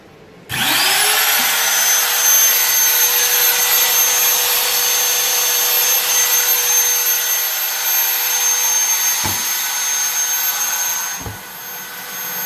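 A CNC router inside an open prototype enclosure runs with a loud, steady machine whine and high motor tone, starting abruptly and holding nearly constant, with a couple of brief dips near the end.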